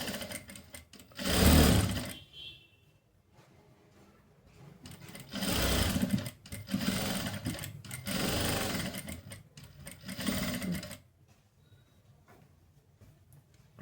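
Sewing machine stitching a blouse seam runs in several bursts of fast whirring and clatter, separated by quiet pauses, close and fairly loud.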